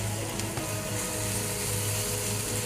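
Steady hiss and crackle of pearl barley and potatoes frying in a pan, continuous and fairly close, with a low hum underneath and a couple of faint clicks.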